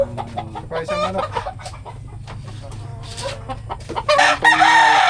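Chickens cluck and a rooster crows loudly nearby, with several birds calling over one another in a busy, close farmyard chorus near a hut, with cobras close by.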